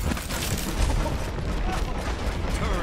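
Rapid gunfire aimed at a turret in the Overwatch video game, dense and continuous bursts of shots that fill the whole stretch at close range, layered with other busy game sounds.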